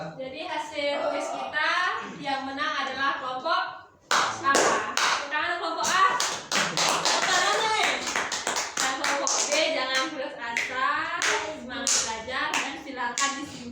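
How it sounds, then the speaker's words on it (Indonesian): Classroom students clap sharply for the winning group, a burst of close, rapid hand claps mixed with lively voices of children and an adult talking throughout. "Tepuk tangan untuk kelompok A."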